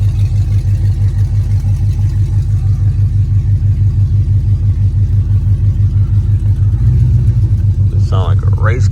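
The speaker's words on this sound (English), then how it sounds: "Sound like a race car." A Chrysler 300 with a swapped Scat Pack engine idles loud and close in a steady deep rumbling throb, rising briefly in a short rev near the end while someone talks over it.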